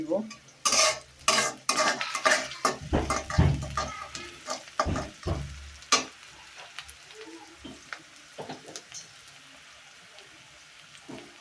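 Onion and cauliflower fry in a pan while being stirred, with loud scraping and clattering of the utensil against the pan in quick bursts that ease into quieter, sparser stirring and a soft sizzle.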